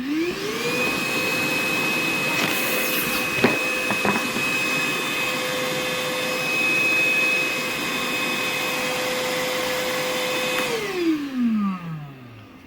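An Einhell cordless battery-powered vacuum cleaner spins up to a loud, steady motor whine with a high tonal hum, runs for several seconds with brief knocks, then winds down as the pitch falls away.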